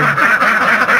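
Alabio ducks, laying females, quack in a close, loud burst of repeated nasal calls over about a second.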